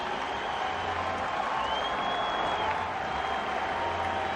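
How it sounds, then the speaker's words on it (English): Ballpark crowd in San Francisco applauding Cubs pitcher Greg Maddux as he leaves the game after more than five innings, a broad, even wash of clapping that holds steady throughout with faint cheering mixed in. "Very warm reception for Greg Maddux from the crowd here in San Francisco as he leaves after 5+ innings"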